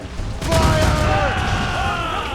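Ship cannons fire a broadside in Assassin's Creed Rogue, a loud booming volley with a long rumbling tail in a naval battle, with voices shouting over it.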